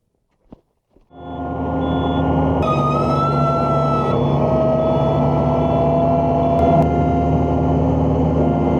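A skid steer loader with a spinner attachment working at a sawmill: after a couple of faint clicks the engine fires up and settles into a loud, steady running roar with a high hydraulic whine on top.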